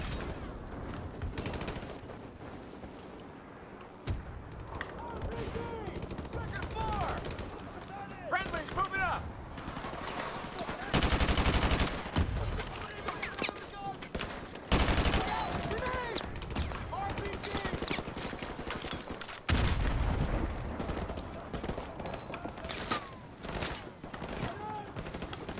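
Gunfire in the game Modern Warfare Remastered: repeated shots and short bursts scattered through a busy mix, some loud and close, with a person talking over parts of it.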